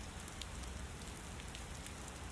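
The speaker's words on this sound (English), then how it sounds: "Rain has a way of changing the sound of a house." Soft, steady rain patters on a surface, an even wash of droplets with a few brighter taps, quiet and continuous.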